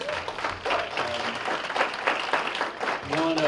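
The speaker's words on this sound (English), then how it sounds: "everyone please stand and give Sergeant Major a round of applause for a great message" An ROTC banquet audience stands and applauds Sergeant Major, giving dense, sustained clapping with cheers and voices mixed in, loud and continuous from start to finish.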